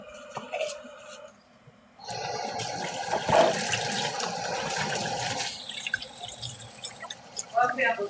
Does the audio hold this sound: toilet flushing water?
yes